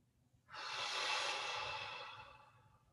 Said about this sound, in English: as you're doing the waterfall breath, breathing in through your nose and then dropping it out through your mouth